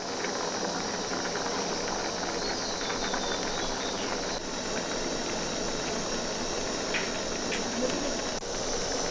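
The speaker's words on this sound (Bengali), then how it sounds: "আমটা এবারে ফুটছে" Raw mangoes boil in water inside a covered wok, making a continuous dense rumbling bubble and steamy hiss, steady and close throughout with no speech.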